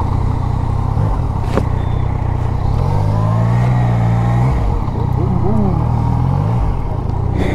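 Superbikes including a Kawasaki Z900, Honda CBR 650R, Yamaha MT-09 and Honda CBR 650F rev and accelerate in a drag race. Loud, close engine notes rise and fall in pitch through gear changes over constant rushing wind noise.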